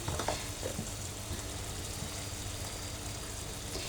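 Raw mango pickle sautéing with spices, salt and turmeric in a pan, a dense steady sizzle with a low rumbling hum underneath and occasional faint stirring.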